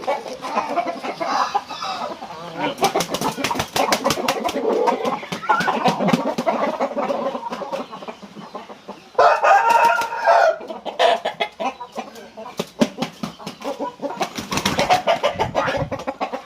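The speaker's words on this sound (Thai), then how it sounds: "นี่นะครับผมสำหรับแม่ไก่ฝากผสมนะครับ เดี๋ยวจะพาไปปี้นะครับผม" Hens cluck and a rooster crows at a Thai chicken farm where a breeding hen is penned with the main stud rooster; the clucking is busy and continuous, with louder crowing calls breaking through nearby.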